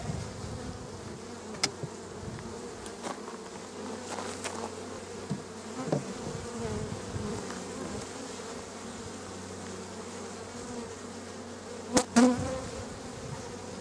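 Honey bees hum steadily around an open hive during an inspection, a close, continuous buzzing drone with occasional brief knocks and clicks from handling the boxes, no talking.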